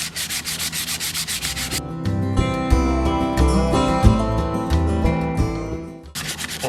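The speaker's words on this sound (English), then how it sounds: "All this sawdust that I'm getting from this sandpaper, I'm going to save it" Close, steady scratchy rubbing of 220-grit sandpaper on the old wooden stock of a classic American firearm, in quick back-and-forth strokes that pause briefly near the middle and resume.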